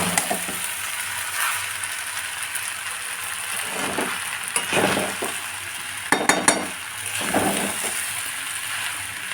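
Sago frying in a pan as it is stirred, a soft continuous sizzle broken by light scrapes and a few clinks of a metal spoon against the pan, no talking.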